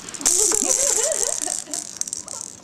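A puppy batting a rattling toy ball, giving a loud, busy burst of rattling that comes and goes in quick shakes, close by with no talk over it.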